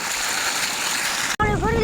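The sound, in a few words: waterfall, water falling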